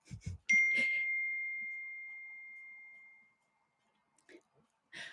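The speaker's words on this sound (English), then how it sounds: "My husband just texted me." A phone's text message notification gives a single clear ding that rings out and fades slowly in an otherwise quiet room, followed by a few faint soft sounds.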